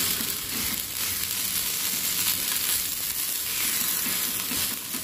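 Thalipeeth flatbread is pressed out by hand directly on a hot tawa griddle, and it gives off a soft, steady sizzle with faint crackles and dull pressing sounds, close by, with no talking.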